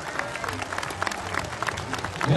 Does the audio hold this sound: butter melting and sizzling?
no